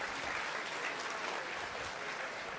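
A crowd claps steadily for a couple of seconds, a dense, fairly distant patter of many hands with no speech over it.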